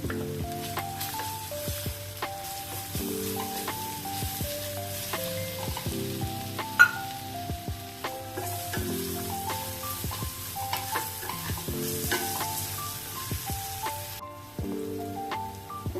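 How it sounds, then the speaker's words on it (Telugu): Ginger garlic paste frying with onions in a pan for prawn curry, a loud continuous sizzle with repeated spatula stirs and scrapes, one sharper knock midway. "అల్లం వెల్లుల్లి పేస్ట్ వేస్తున్నాను"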